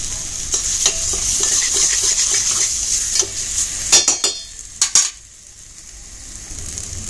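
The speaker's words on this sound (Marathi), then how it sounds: "वाटण बघा खमंग परतून झालंय" Masala paste is sautéed and stirred in a pan, with repeated scraping and clinking strokes of a spoon against metal over a soft frying sizzle, the stirring bunching up near the middle before settling into a quieter sizzle.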